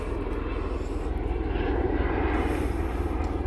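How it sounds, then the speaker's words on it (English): A helicopter's steady engine drone overhead, rumbling continuously and swelling slightly as it passes, with no voices. "Oh, the helicopter's coming back around."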